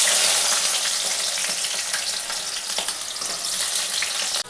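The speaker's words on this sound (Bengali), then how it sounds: "তেলটা গরমই হয়ে গেছে বন্ধুরা, আমি এগুলো এবার দিয়ে দিচ্ছি। আগে আলুটা দিয়ে দিলাম।" Potatoes fry in hot oil with a loud, steady sizzle and crackle that holds for several seconds, with light stirring and no talking.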